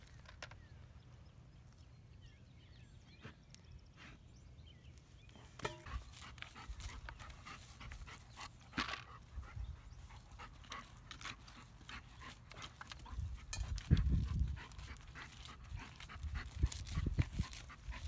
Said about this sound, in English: Stop digging. Crazy dog.